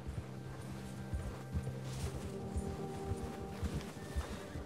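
Horses gallop in Red Dead Redemption II, a rapid rhythmic clatter of many hooves, fairly close and continuous, over a low background hum.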